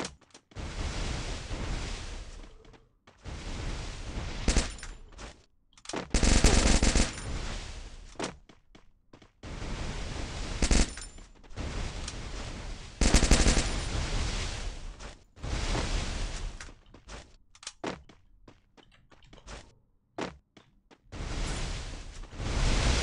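Repeated bursts of Uzi submachine gun fire in a shooter video game, loud harsh rattling volleys of varying length separated by brief gaps, with sharper peaks where bursts overlap.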